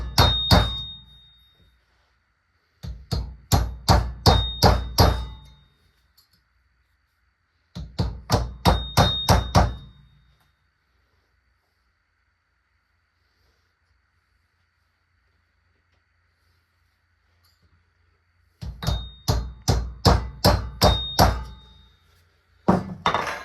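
A hammer strikes a punch to drive a fork seal home on a Triumph Sprint 955i RS, in several bursts of eight to ten rapid, ringing metallic blows separated by quiet pauses, loud and close.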